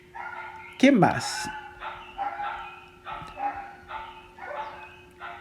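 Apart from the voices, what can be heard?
dogs barking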